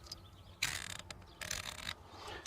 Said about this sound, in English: Very, very audible turrets, all right, left and right.